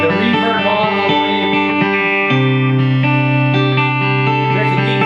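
A Marshall TSL guitar amplifier rings out sustained, layered chords with its reverb turned all the way up, loud and continuous with a change of chord partway through.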